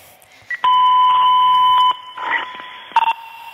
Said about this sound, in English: automatic fire alarm